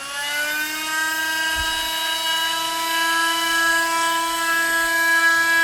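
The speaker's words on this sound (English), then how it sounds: "I'm going to crank it all the way up and see if I can do this without burning anything out or throwing something off the motor." Single-coil brushless motor on a multi-phase driver winding up to high speed, a loud steady whine with many stacked harmonics rising slowly in pitch and holding strong throughout, with no voices.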